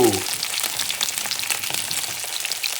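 Blackened rainbow trout frying skin side down in a hot pan, a loud, dense, continuous crackling sizzle close up, alone without speech.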